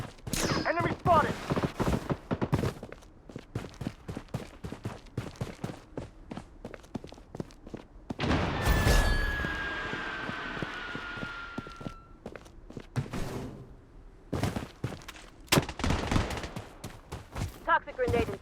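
Rapid bursts of gunfire in the shooter video game Blood Strike, loud and close with scattered single shots, footsteps and a longer sustained volley in the middle, with game voice callouts over it.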